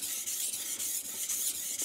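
A knife blade is sharpened on a King G-45 220 grit whetstone, soft rhythmic scraping strokes at about four per second, close and quiet, with no talking.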